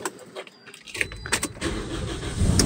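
A Toyota Corolla GLi that has sat unused for days is started, with keys jangling first, then the engine cranking and catching into a steady, rising rumble close by.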